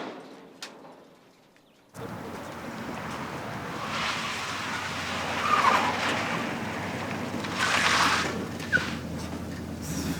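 A truck on a film set drives fast and drifts, its tires squealing and skidding in two loud bursts over a steady engine rumble, after a quiet start.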